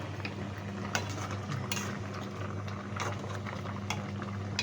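Quiet bubbling of coconut-milk tilapia and vegetable stew simmering in a pot, with occasional light clinks of a utensil against metal.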